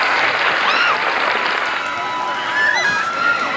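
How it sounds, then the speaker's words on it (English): A crowd at a music performance cheers and applauds as a cover song ends, a steady roar of clapping and shouts with a few whistles carrying over it. "And the crowd goes wild"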